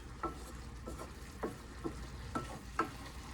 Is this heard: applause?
no